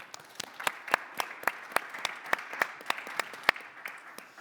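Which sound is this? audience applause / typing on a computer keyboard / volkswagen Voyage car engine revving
audience applause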